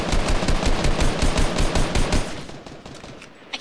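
Rapid automatic gunfire in the video game Fortnite, a loud sustained burst of evenly spaced shots lasting a little over two seconds before trailing off into quieter game noise.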